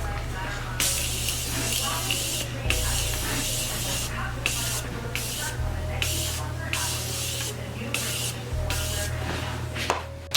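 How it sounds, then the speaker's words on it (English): A Morphe Continuous Setting Mist bottle sprays onto a face in a long series of close, hissing puffs with brief gaps, over a low background hum. "I'm gonna use my Morphe Continuous Setting Mist"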